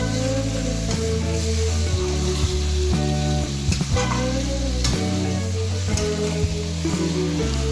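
Chicken pieces stirred over gentle heat in a pan for a cinnamon chicken dish, giving a steady close sizzle with repeated scraping strokes of a spatula and no talking.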